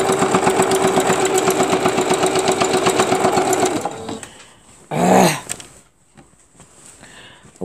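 Sewing machine stitching quilt pieces together for a beginner's quilt; a rapid rhythmic mechanical chatter up close for about four seconds, then stopping, followed by a brief rustle and quieter handling noises.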